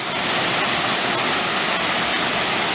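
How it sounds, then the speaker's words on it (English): Steady, dense roar of Limbsville Falls, a waterfall on the Benton MacKaye Trail, heard up close as continuous rushing water with no breaks or voices. "And I've reached Limbsville Falls again."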